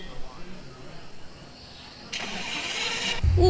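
A Porsche engine in the game Car For Sale Simulator cranks and catches, a brief starter whir building into a broadband roar that ends in a sharp, loud burst, with someone talking quietly beforehand.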